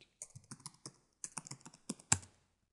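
Typing on a computer keyboard, a quick burst of key clicks in a few short runs with brief pauses, ending on a firmer final keystroke, close and clear with no speech.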